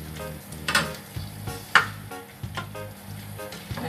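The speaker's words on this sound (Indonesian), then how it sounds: "ini kita aduk selama kurang lebih 1 menit ya" Spicy beef skin (kikil) being stirred in a pan, with a spatula scraping and clacking at irregular intervals over a soft sizzle, close and fairly quiet.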